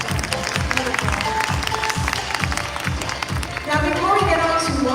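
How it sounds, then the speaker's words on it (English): Audience applause at the Miss Asia Pacific International 2024 coronation night pageant, a dense steady clatter of many hands with a rhythmic beat underneath and swelling cheers near the end. "How about a round of applause for them"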